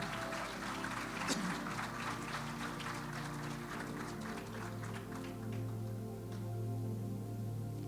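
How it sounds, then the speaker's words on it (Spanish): A Pentecostal church congregation applauds, faint clapping from many hands over a low sustained hum and tone in the room. "Dele un aplauso a Jesús fuerte."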